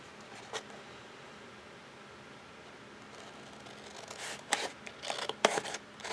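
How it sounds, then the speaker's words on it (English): Scissors cut along drawn lines in paper for a mini-book spine in a Christmas tree farm craft project, quiet at first, then a run of crisp snipping strokes near the end, close and alone. "So these lines that we drew before, I'm going to cut right on those lines."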